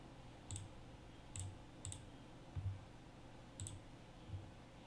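A computer mouse clicking six times at uneven intervals, close and quiet, with no talking.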